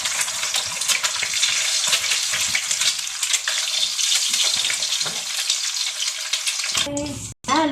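An egg sizzles in hot oil in a frying pan while breakfast is cooked, a dense, steady crackling hiss that holds loud and even, then shifts near the end as something clatters and a voice briefly speaks.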